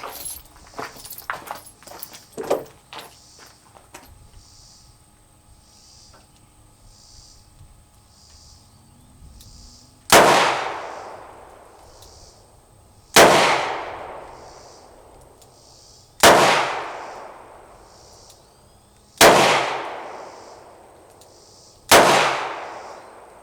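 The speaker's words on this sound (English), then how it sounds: "I'm going to use this Smith & Wesson Airweight, and I'm only going to give it 5 shots at each range" Five shots from a Smith & Wesson Airweight revolver at a 3-yard qualifier range, loud sharp cracks evenly spaced about three seconds apart, each with a ringing decay, after some earlier handling clatter and clicks.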